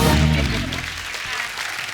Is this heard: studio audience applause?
yes